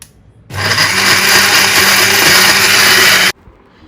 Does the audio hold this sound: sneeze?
no